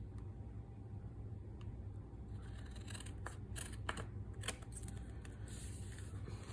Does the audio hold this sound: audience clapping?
no